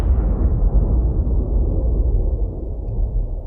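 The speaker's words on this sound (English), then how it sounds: "So I got this explosion that has a perspective from far away." A distant explosion for an Evangelion sound redesign, a big muffled boom that rolls on as a deep rumble, dark and low with the top end filtered away, slowly fading.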